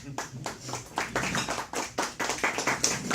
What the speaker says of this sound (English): Please give a round of applause again to Jeremy.